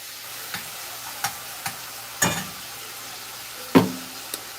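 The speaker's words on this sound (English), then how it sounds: "So we're gonna cook this bacon down." Bacon cooks in a pan with a soft steady sizzle, broken by a few sharp clinks and scrapes from stirring, close by with no talking.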